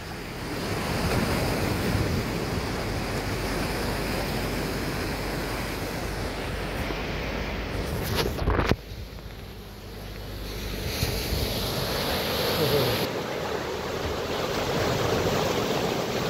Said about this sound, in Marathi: आणि वरती आणि लाटा जबरदस्त मोठ्या मोठ्या लाटा यायला लागलेल्या आहेत